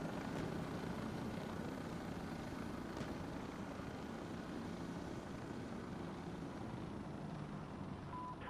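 A video-game helicopter roars past with a steady, loud rotor and engine drone that holds at the same level throughout, with no one talking over it.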